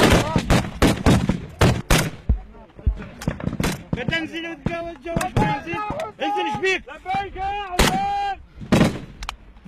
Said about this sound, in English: These guys are also using heavy machine gun dushkas and RPGs against ISIS positions.